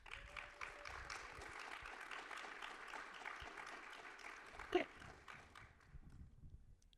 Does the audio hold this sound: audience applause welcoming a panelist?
yes